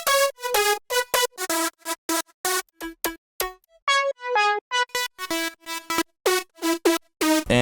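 Five layered synth leads with a synth fill in a future bounce track play a bright, choppy staccato melody of rapid plucked notes with rich harmonics, loud and alone, with short gaps between bursts.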